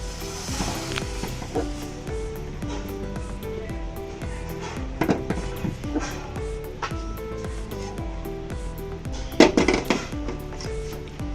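A spoon stirring caramel into milk in a pot while making sweet yogurt at home, with soft scraping and occasional clinks against the metal over a steady musical bed.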